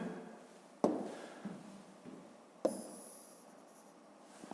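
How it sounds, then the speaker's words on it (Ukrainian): Someone draws a rectangle with a pen or marker on a writing surface. Two sharp taps mark the starts of strokes, and each is followed by a soft scratchy drag; no one speaks. "Давайте я нарисую тут якийсь прямокутник."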